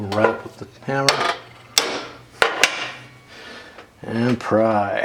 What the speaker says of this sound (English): Let's give it a little rap with the hammer.